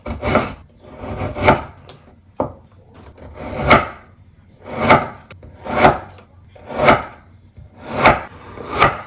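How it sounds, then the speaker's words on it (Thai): A knife slicing through fresh bamboo shoots on a wooden board, about eight evenly spaced, crisp cuts with a rasping, fibrous edge, close and clear, with no talking. "ก็ซอยความหนาก็แล้วแต่ชอบนะคะ"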